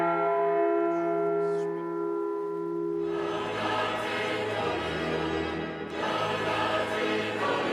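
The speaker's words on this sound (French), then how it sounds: "quel nom voulez-vous donner à cette cloche ?" A newly blessed church bell named Étienne rings in Paris, first a long sustained bright tone, then louder strikes with a dense clanging wash from about the three-second mark onward; no talking.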